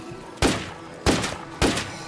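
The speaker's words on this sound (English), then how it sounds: "Why are you shooting?" Three heavy gunshots from State of Decay 2, each a sharp, loud crack followed by a short decaying tail, spaced about two-thirds of a second apart with quiet between them.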